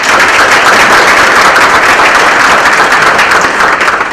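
Loud, dense applause fills a room at a Hispanic Heritage breakfast as the crowd welcomes a state senator, steady clapping from many hands holding at full strength for about four seconds.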